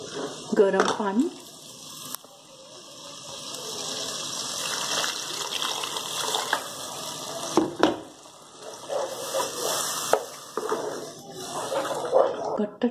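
Hot water poured into potato gravy in a pan, giving a watery gush and bubbling squish that runs for several seconds at moderate loudness, with a voice talking over parts of it.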